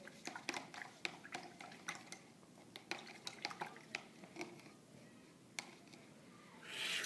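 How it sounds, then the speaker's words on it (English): A paintbrush rinsed in a cup of water, giving faint, close clinks and taps against the cup and small sloshes in a quick irregular series, with a louder swish at the end. "my brush now is really messy. I don't want to paint with a messy brush like this, so I'm going to clean it again in my water."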